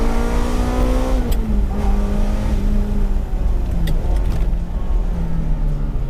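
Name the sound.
Ferrari engine revving and building power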